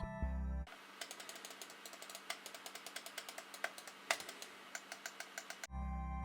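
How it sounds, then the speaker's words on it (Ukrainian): Crisp, fairly bright clicks from a COUGAR MINOS NEO gaming mouse button repeat in an irregular stream, close up and isolated, with short quiet gaps between presses. "Гучність натискання середня, звук ближче до дзвінкого, але приємний на слух."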